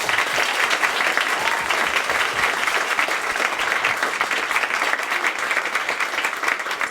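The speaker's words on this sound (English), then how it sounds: "So let's give an applause for the bookstore again." Sustained audience applause at a University Book Store author event in Seattle, a dense steady wash of many hands clapping throughout, fairly loud and even with no break.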